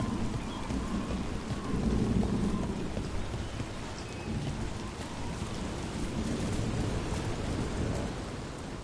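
Steady rain in the video game Dragon Age The Veilguard, a dense continuous wash with a low rumbling undertone, even in level throughout with no voices.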